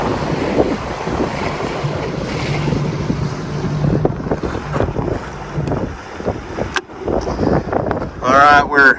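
A new bass boat idles slowly across a lake at about 8 miles per hour during engine break-in, giving a steady hull and water rush with heavy wind buffeting, and a voice talks over it.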